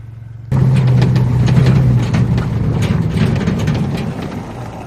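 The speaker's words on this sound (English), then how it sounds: "this car makes more noise than my work van" An old Ford car engine starts up abruptly and runs loud and close with a rough, throbbing low rumble, easing slightly over a few seconds, with no voices.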